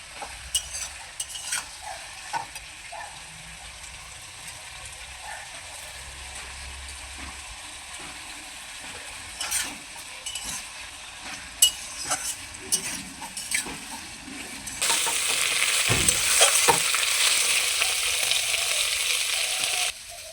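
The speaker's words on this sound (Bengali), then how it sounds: "আলুর সঙ্গে সিমগুলোকে দুই চার মিনিট আবারও ভেজে নেব" Potatoes and beans fry in a pan with steamed stalks added, heard as a quiet sizzle with scattered stirring clicks, then a louder burst of hissing near the end.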